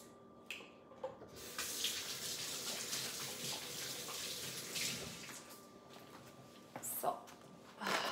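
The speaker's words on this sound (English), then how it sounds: "Let me go wash my hands a little bit here." Water runs from a kitchen faucet in a steady stream as hands are washed beneath it, with brief splashes and clatter at moments, continuing for several seconds before pernil seasoning begins.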